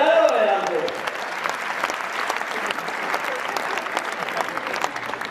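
Crowd clapping fills the hall at a Hindi kavi sammelan poetry recital, with a voice briefly heard at the start before steady, dense applause carries on at a moderate, even level.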